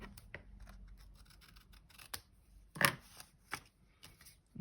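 Scissors trim a small paper edge on a handmade craft envelope, giving a few soft snips and crisp cuts close by, spaced irregularly against a quiet room.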